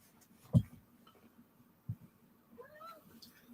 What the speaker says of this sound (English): Oh, cat, be quiet.